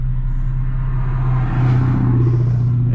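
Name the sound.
car passing by on the road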